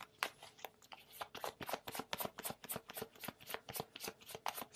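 A deck of tarot cards being shuffled by hand, heard up close as a rapid run of crisp papery flicks and riffles that carries on steadily without pause, with no talking.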